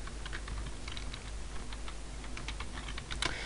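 Someone types the net user command into the Command Prompt on a Windows XP computer keyboard, producing a quick, uneven run of close, crisp key clicks over a steady background hum.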